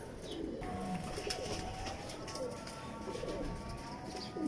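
Red-eyed Kamgar pigeons coo softly and repeatedly amid other bird chirps, with faint background noise and a murmur of voices.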